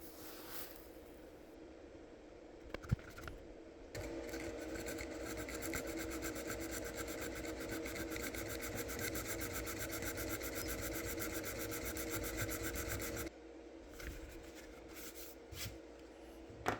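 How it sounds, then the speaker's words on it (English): A Hasegawa scribing tool scratching panel lines into a resin studio-scale X-Wing fuselage, a faint close rasping scrape that runs steadily through the middle with quieter pauses around it. "This is a Hasegawa scribing tool."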